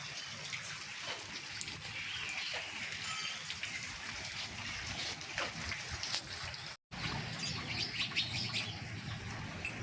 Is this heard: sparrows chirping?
yes